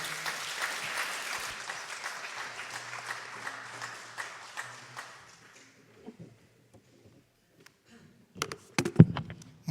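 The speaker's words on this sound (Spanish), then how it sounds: "Muy flojo ese aplauso." Church congregation applause fills the first half, a dense wash of clapping from many hands that gradually thins and fades out, followed by a quiet pause and a few scattered thumps and knocks near the end.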